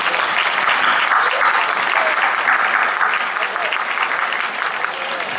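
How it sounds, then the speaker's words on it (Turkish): Audience applause for İnan Esen at a hotel opening in Didim, a loud, sustained burst of many hands clapping together that holds steady and eases slightly toward the end. "başkanım İnan Esen için de bir alkış istiyorum"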